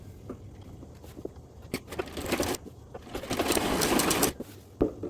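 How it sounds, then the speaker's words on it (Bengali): A sewing machine runs in short bursts and then a longer steady run, stitching elastic into a salwar waistband; close and fairly quiet, with no talk. "এখন আমি একইভাবে এই সাইড সেলাই করে নিলাম।"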